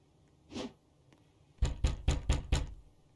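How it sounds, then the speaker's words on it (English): Knocking on a door in a Roblox game: one soft thud, then five firm, evenly spaced knocks in quick succession, close and clear with no talking. "Knocking on the door?"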